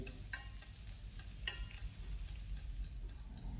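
Minced garlic, shallots, chili and scallion bases frying in hot oil, giving a steady close sizzle with light stirring clicks and scrapes throughout.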